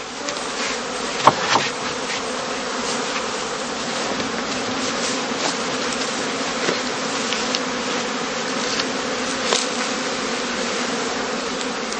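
Honeybees buzzing steadily at a heather skep apiary in heathland, a dense continuous hum of many insects with occasional closer passes flaring briefly louder.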